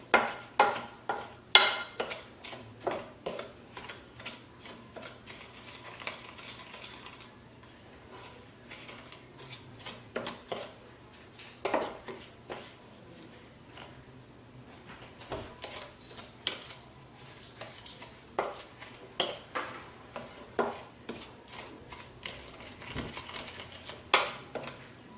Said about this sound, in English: So I like to mix my sugars up first